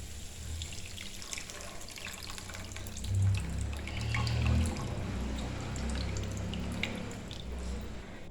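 Tamarind pulp, squeezed by hand, trickles and pours into a pot of Kerala-style rasam, a soft, steady watery dribble with a brief fuller splash partway through, close by and fairly quiet.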